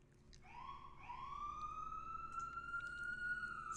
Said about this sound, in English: So many apologies for all of the sirens here in West Philly.